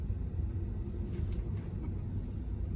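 Muffled, steady low rumble of tires rolling over pavement heard from inside a moving Tesla Model 3, constant and fairly quiet with no talking.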